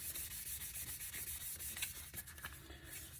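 Steady, close scratchy rubbing of a sanding sponge on a Nissan 350Z car part, back-and-forth cross-hatch strokes in an even rhythm.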